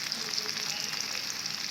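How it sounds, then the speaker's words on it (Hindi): Four chopped onions frying in hot oil in a pan for an egg-brain masala: a steady, even crackling sizzle, moderately loud and close, with no talk over it. "अब ये मैं इस ऑयल के अंदर डालकर इसे डार्क ब्राउन करूँगी"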